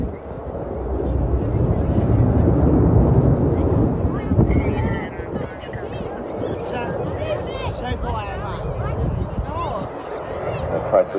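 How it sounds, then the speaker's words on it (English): Eurofighter Typhoon jet roaring over a bay on full reheat at an air show, a loud broad rumble swelling and fading under continuous commentary. "Typhoon coming back over the bay,"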